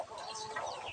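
Chickens clucking close by in a backyard flock where adult hens are raised together with young chicks, a busy, continuous cackling with no voices over it.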